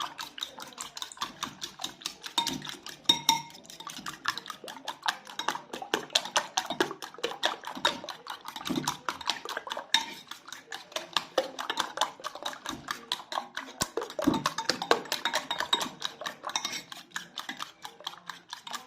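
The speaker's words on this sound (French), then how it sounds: "Je bats mes œufs" Rapid, steady clinking of a whisk or fork beating eggs in a bowl for fried chicken wings, a fast rhythmic tapping that continues without pause, close up and with no voices.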